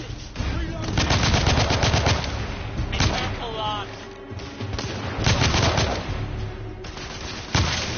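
Rapid gunfire bursts and heavy shots crackle in the video game The Order: 1886, during Chapter 3, with voices shouting between the volleys.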